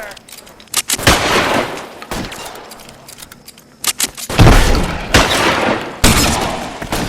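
Gunshots ring out in the video game L.A. Noire, loud and close, as several sharp bursts fall at uneven intervals, with a heavier clustered volley near the end.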